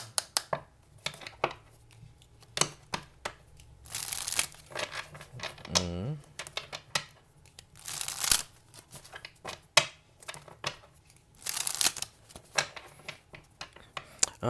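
Tarot cards being shuffled and handled in repeated bursts of riffling and flicking, close and crisp, with brief pauses between.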